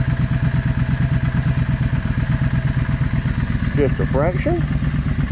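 A warmed-up Yamaha V Star 650 motorcycle idles with a quick, even, thumping pulse that continues throughout, while someone speaks briefly near the end.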